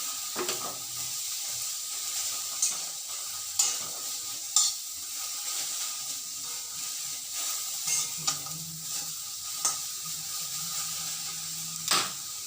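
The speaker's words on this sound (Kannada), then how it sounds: "ಇದನ್ನು ಹಾಕ್ತಾ ಇದ್ದೀನಿ. ಚೆನ್ನಾಗಿ ಹುರಿಯೋಣ ಇದನ್ನು." Ridge gourd peel frying in a pan, a soft steady sizzle with intermittent sharp stirring scrapes and clicks of a utensil against the pan, close and moderately quiet, no talking.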